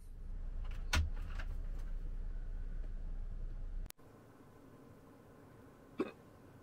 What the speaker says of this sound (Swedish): Hickar du?